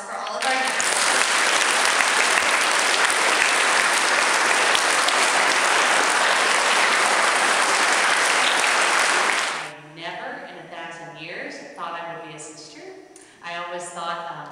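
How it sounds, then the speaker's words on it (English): Loud, sustained applause from a school audience during a Catholic Schools Week vocation talk at St. Margaret School honoring guests including a religious sister, lasting about nine seconds before stopping abruptly, followed by someone speaking. "Let's show our appreciation with a round of applause for all of our guests."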